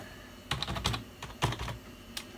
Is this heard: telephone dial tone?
no